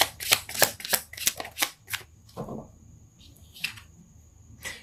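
Tarot cards being shuffled, with a quick run of crisp riffling snaps up close, then a few softer slides and taps as a card is drawn.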